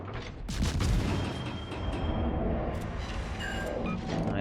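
Naval airstrike explosions in World of Warships, launched from the Tromp Dutch destroyer: a dense, rumbling wash of booms and battle noise that swells early and keeps rolling steadily, with scattered sharper hits.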